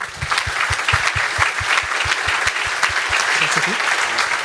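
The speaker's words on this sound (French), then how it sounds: "On peut les applaudir" Applause fills an innovation awards evening hall, dense clapping from the audience with a regular low thumping beat underneath, steady and fairly loud throughout.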